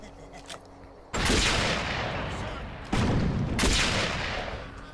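Enemy gunfire in the video game Defiance comes in two loud, sudden bursts of heavy shooting, each a sustained roaring volley that starts abruptly and slowly fades, with quieter ambience in between.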